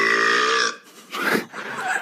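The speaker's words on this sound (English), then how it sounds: "It's my turn for the burp contest," A long, loud, voiced burp made as a turn in a burping contest, with short bursts of voice following it.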